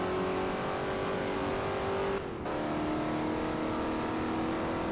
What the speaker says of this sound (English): Once you start with this right curve, you can flat out your car.